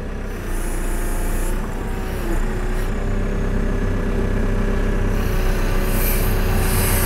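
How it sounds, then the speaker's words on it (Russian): A 2021 JCB 3CX Super backhoe loader runs a steady, loud diesel drone while its stabilizer legs extend and the boom moves, with sharp hydraulic hisses near the start and end. "Выдвигает лапы, выставляет трактор в ровное положение, отодвигает стрелу, поднимает фиксатор стрелы."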